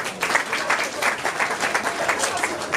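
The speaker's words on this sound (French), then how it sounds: "Acclamons pour la parole." Applause from a congregation at a Catholic funeral service in a morgue chapel, a steady dense patter of many hands clapping at close range, continuous through the moment without talk.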